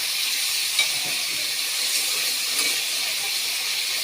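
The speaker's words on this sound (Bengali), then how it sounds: "পুরো চিকেনটা বসিয়ে দিলাম একটু ভাজা ভাজা করে রান্না করব" A whole chicken frying in a pan gives a constant, even hiss of hot oil with no breaks, close and fairly loud throughout.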